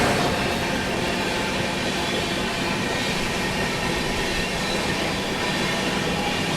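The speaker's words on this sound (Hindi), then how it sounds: "गाजियाबाद लोग वैप 7 के साथ खड़ी है अपनी लिच्छवी एक्सप्रेस" The Lichchhavi Express train stands at Ghaziabad station with a WAP-7 electric locomotive. A loud, unbroken rail rumble fills the whole stretch, with faint wheel squeal and no talk.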